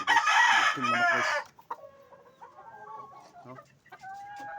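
A five-month-old rooster crows loudly up close, then gives several softer clucks and short calls in the quiet that follows.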